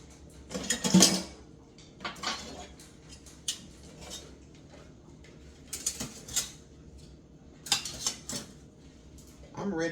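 Cutlery clinks and scrapes against a plate in sporadic bursts, close by, as a child eats in an otherwise quiet room.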